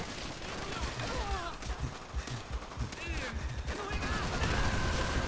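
Gunfire in the World War II shooter Call of Duty: World at War rattles in dense bursts beneath a continuous wash of battle noise and whistling sounds, fairly faint overall.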